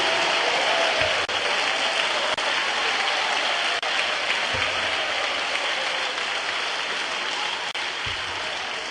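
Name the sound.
congregation clapping hands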